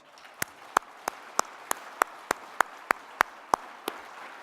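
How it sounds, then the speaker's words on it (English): Sparse, slow clapping from a small audience at a keynote speech, about a dozen distinct evenly spaced claps standing out clearly against a quiet room. "Let's give them a round of applause."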